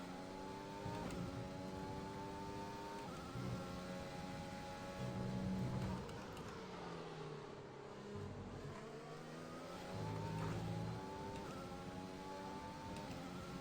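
A race car engine in a racing video game climbs through the revs and shifts gears, a buzzing, whining tone that rises and falls in repeated sweeps, moderately loud and with no talk.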